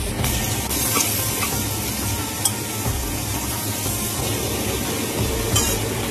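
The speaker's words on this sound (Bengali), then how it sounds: "ভালো করে ভাজা হয়ে গেলে তারপরে আমি জল দিয়ে দেবো।" Water hits a hot pan of frying potatoes seasoned with panch phoron, salt and turmeric, setting off a loud, steady hissing sizzle with a few faint clinks of a utensil near the pan.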